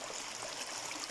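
A mountain stream on a Margalla Hills hiking trail near Islamabad rushes steadily, a soft continuous hiss of flowing water heard alone.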